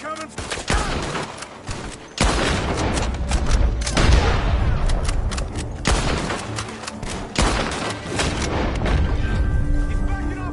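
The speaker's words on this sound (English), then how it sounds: "The gunshots are coming." Heavy gunfire rattles through a shootout in Red Dead Redemption II, with repeated loud booming shots and bursts of rapid fire, and voices talking amid the shooting.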